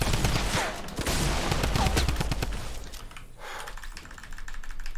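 Double-barrel shotgun fire in Fortnite makes a dense, loud barrage of rapid blasts and crackling impacts that fills most of the stretch before easing slightly near the end.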